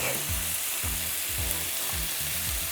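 Minced garlic sizzling in a frying pan with brown onion, a loud, steady hiss of hot oil close up with faint low rhythmic tones beneath.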